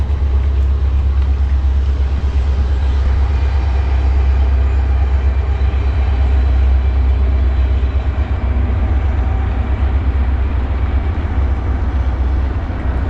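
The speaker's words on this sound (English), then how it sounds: "Ooh, I hear a train." A train rumbles past near a remote Appalachian mountain river in winter, a steady, loud low roar that holds evenly throughout with no voices.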